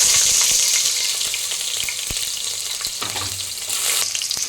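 Onions sizzle loudly in hot oil inside a pressure cooker along with whole garam masala, a steady dense crackle with occasional stirring scrapes, no talking.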